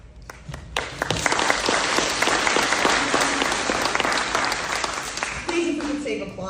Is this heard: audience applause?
yes